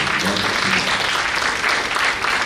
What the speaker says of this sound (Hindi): मुझे ये समझ में नहीं आता किसके लिए ताली बजा रहे हैं